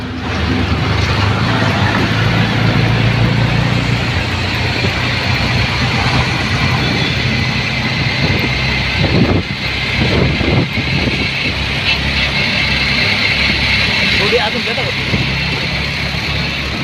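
A new auto rickshaw driving along the Ahmedabad highway, its engine droning steadily with road rumble and wind noise, close and loud throughout, with passing traffic and people talking over it.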